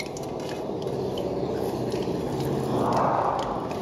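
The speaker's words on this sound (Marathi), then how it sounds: "हा जो लसूण आहे आपण वाळवून घेतलेला, तो तळून घ्यायचा आपल्याला" Dried garlic fries in hot oil in a pan for chivda, giving a steady, close bubbling sizzle that swells a little louder toward the end. No voices are heard.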